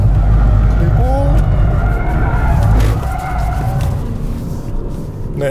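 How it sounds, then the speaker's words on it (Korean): Maserati Quattroporte Trofeo sliding under engine power: a loud, sustained rumble of engine and tyre roar with a brief squeal of rubber near the start, fading slightly toward the end. "현재처럼 가속 페달만 밟아주면 그대로 차가 미끄러지는 것을 경험할 수 있게 되죠"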